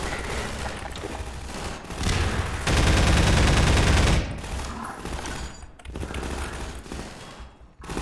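Gunfire in Half-Life 2: rapid bursts of automatic weapons crackle close and loud, with a dense sustained volley in the middle and scattered shots around it, and no talk.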